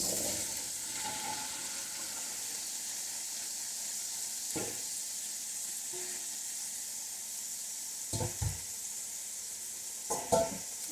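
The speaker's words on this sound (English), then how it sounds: "actually gonna let these sizzle on the heat just a little bit before I start adding my liquids" Steady bright sizzling of diced red potatoes frying in a pan, continuous hiss throughout, with a few brief clanks of stirring near the end.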